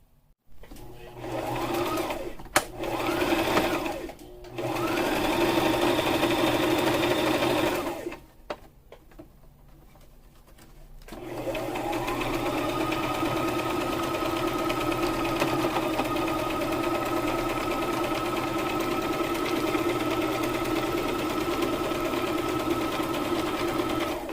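A sewing machine stitches fabric for a costume crow in steady, fast runs with a brief pause partway through, then one long continuous whirring seam, close and even.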